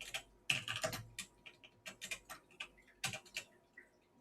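Rapid, uneven clicks of fingers typing on a computer keyboard, close and crisp, in short bursts with brief pauses and no talking.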